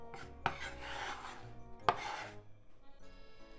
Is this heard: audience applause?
no